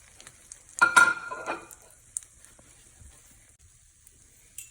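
French toast fries in a pan with a faint, steady sizzle, broken near the start by a short burst of clattering and scraping, then a few soft taps.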